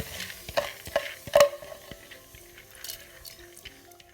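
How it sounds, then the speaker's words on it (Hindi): Soaked lentils with a little water are poured into a cooking pot, giving soft splashes and wet clatters in short bursts, with quieter liquid trickles and stirring in between, heard close and fairly faint. "तो अब मैं ये इसमें इसी तरह से थोड़े से पानी के साथ ये इसमें डाल दूँगी"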